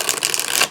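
Oracle cards riffled in a brief, rapid flutter of papery clicks, close and fairly loud for under a second.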